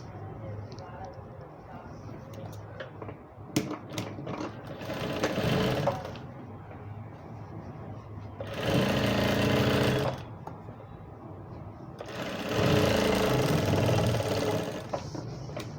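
A sewing machine stitches the seam of a pair of palazzo pants in three distinct bursts, close and fairly loud, with quieter handling noise and pauses between runs.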